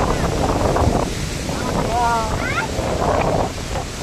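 Strong gusty wind roars steadily near a monsoon waterfall in the hills of Raigad, with buffeting against the microphone and voices talking over it.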